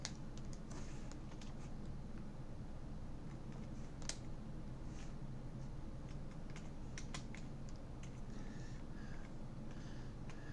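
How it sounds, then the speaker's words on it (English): Quiet, scattered key taps on a computer keyboard, clicking in short irregular bursts against a low background hum. "Typing is a pain when I can't see what I'm doing."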